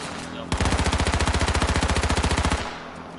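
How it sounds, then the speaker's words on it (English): Automatic gunfire from a drive-by shooting in the video game H1Z1, a rapid burst of about twenty evenly spaced loud shots lasting two seconds, with a quieter background before and after. "Alright, you ready for a drive-by? Drive-by. Shoot."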